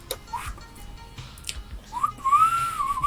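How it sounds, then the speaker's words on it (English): A human wolf whistle rings out, a short rising note followed by a longer sweeping one, fairly close and clear over faint room noise. "Wolf Whistle, she might come quicker that way."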